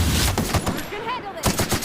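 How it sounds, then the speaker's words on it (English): Rapid bursts of gunfire from a weapon shooting a hostile creature in The Outer Worlds, loud and close, with several sharp repeated shots in quick succession and a brief pause before another volley. "I assume it's going to attack us, so I'm going to shoot it."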